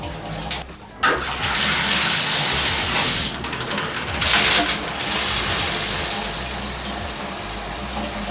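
Water gushes steadily through a Luxsego shower filter in a bathroom, a loud continuous hiss that falters briefly near the start before running on evenly.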